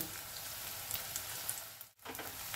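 Chopped garlic and onion frying in a pan, a dense, even hiss of sizzling oil that briefly cuts out and then returns, with no talk.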